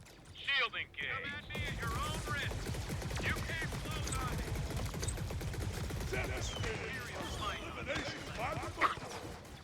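Rapid blaster gunfire from the Star Wars Hunters video game, a fast continuous rattle of shots under game effects, with someone talking over it throughout.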